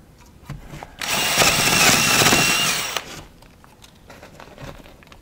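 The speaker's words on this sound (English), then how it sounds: "Got the extension on the drill bit, because the last thing you want is the drill driving its, you know, a groove down the wall" Power drill fitted with an extension auger bit boring into a house wall near the fire block, a loud sustained whirring grind lasting about two seconds that starts abruptly and tapers off, with quiet room sound before and after.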